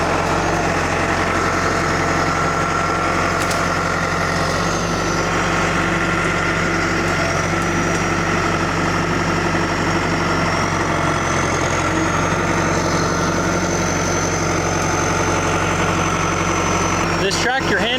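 A tractor engine idles steadily and loudly throughout, a constant low rumble with no change in pace, at a culvert repair site where a heavy load is being lifted.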